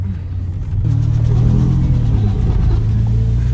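A loud, close turbocharged Ford EF Falcon engine rumbles, then rises and holds at a higher, steady pitch as it revs, with no voices.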